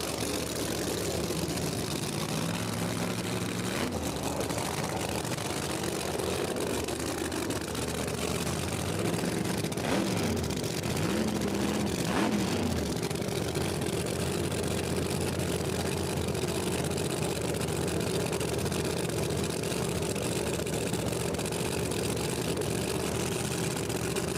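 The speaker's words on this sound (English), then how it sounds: "Looks like we're going to have a drag race right here" No Prep Kings drag race cars at the National Trail event, a steady loud engine roar throughout with a couple of brief rising whines near the middle, heard from a distance amid continuous crowd and track noise.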